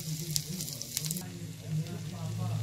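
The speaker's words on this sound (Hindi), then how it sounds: "अब ये हमारा तड़का तैयार हो रहा है।" Ginger and whole red chilli tempering in desi ghee for dal tadka, cooked over a cow-dung cake fire, sizzling and crackling steadily at close range, with a few sharper pops early on and no talking.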